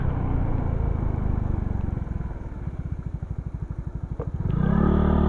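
Suzuki Skydrive Crossover scooter idling and putting along during a slow tight turn, a close, rhythmic low engine chug that builds into a fuller rev at the end.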